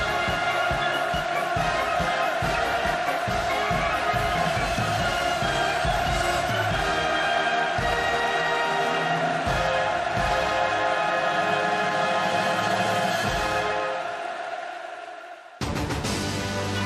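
A large crowd at a submarine launch ceremony roars and cheers in a sustained loud wave, with music blended in, before it fades out near the end and a brief new sound cuts in.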